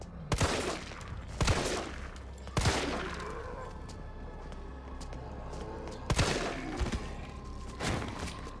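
Several loud gunshots ring out in irregular bursts, each sharp crack followed by a ringing tail, over low game ambience during the Nemesis boss fight in Resident Evil 3 Remake, with no talking.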